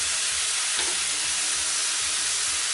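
Shawarma meat cooks in oil in a pan, giving a steady, loud, dense sizzle and crackle that stays even and continuous throughout.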